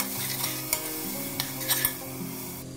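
Tomato paste and spices frying for egg biryani, a soft steady sizzle with a spoon stirring and scraping the pan, a few sharp clinks of utensil against the pot standing out.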